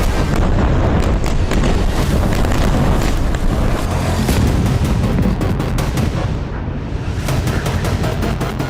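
Rocket strike explosions on a Hamas command centre in Khan Younis, a loud, continuous roar of blasts and rumbling detonations with dense crackling bursts throughout, overwhelming and close, with no voices.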